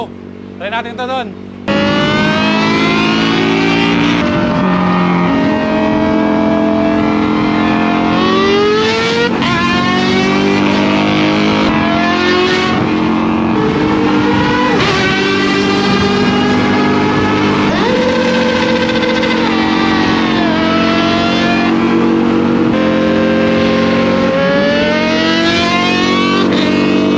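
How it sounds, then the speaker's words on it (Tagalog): Kawasaki ZX-4RR motorcycle with a Villain R11 exhaust roaring loudly and continuously, engine pitch climbing and dropping through sustained high revs and shifts, close and dominant throughout. "Ang sarap sa tenga ng hiyaw ng motor na to gamit natin yung V-Lane R11."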